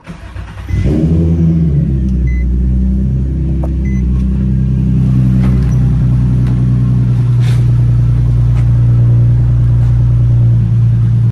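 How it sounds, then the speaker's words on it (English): A Nissan 350Z fitted with a cheap aftermarket eBay exhaust firing up from cold: a brief starter crank, then a loud, close engine catching and settling into a steady deep rumbling idle. "Now this is how it sounds with a cold start."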